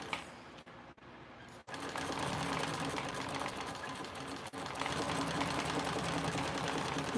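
A sewing machine running a back stitch, a fast steady mechanical whir and clatter that starts after a few short bursts and pauses, then runs continuously at close range.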